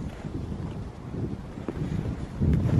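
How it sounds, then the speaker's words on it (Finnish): Wind gusting across a frozen lakeshore on a winter hike in a bog area, a steady low rumble of buffeting against the microphone that swells louder toward the end, with no voices. "Aika tuulista täällä kyllä on."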